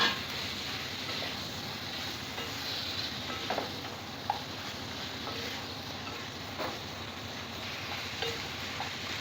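Marinated chicken is stirred into masala in a hot pan for a chicken masala curry, with steady close sizzling and frying and occasional soft scrapes and clinks of the spoon against the pan.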